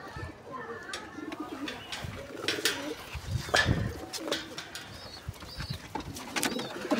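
Pigeons cooing inside a coop, soft repeated coos and a few chirps and wing flutters at close range, with a voice speaking faintly in the background.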